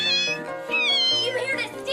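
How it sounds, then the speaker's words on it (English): A cartoon cat in an English-dubbed anime meows in a string of clear, close, pitched mewls, several rising and falling cries back to back, loud against a quiet background. "You thieving little cat!"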